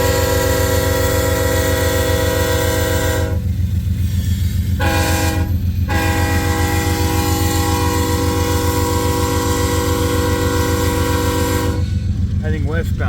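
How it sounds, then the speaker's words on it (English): An AC4400CW locomotive hauls an empty westbound coal train, its horn blaring loud and close in long sustained blasts with short breaks, over a continuous heavy rumble of the engine and rolling cars. "Heading westbound with empty coal drag."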